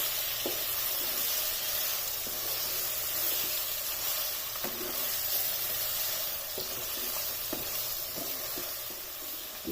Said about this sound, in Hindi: अब इस लहसुन को इसमें 2 मिनट तक फ्राई होने देना है।